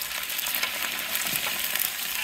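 Chicharrón crackles and sizzles steadily in hot oil, a dense, bright frying hiss with small pops, close and continuous, no voices over it.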